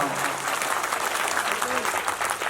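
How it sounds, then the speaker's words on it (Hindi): A large audience at a poetry recital in Islampur, West Bengal, claps in a dense, sustained burst of applause with crowd noise that holds at a steady loudness throughout. "यहाँ से वहाँ तक एक बार ताली बजा करके मुझे हुक्म दीजिए कि मैं नई नज़्म आपको सुनाऊँ।"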